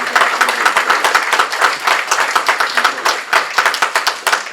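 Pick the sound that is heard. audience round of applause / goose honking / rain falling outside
audience round of applause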